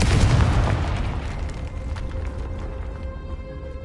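A Confringo spell explosion in the Hogwarts Legacy video game: a loud, booming blast with a fiery roar that slowly fades, heard alone.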